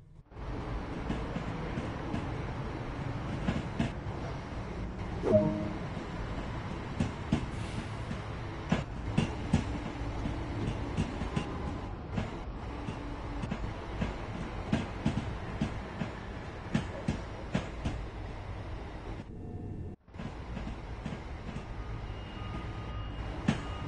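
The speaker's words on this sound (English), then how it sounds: "Class 387 electric multiple unit and consists of 8 cars. Train Sim World 2 allows you to ride and drive from a selection of camera views." A Class 387 eight-car electric multiple unit on a London commuter route in Train Sim World 2 gives a steady rolling rumble, with scattered rail clicks and clunks over the run and a brief dropout near the end.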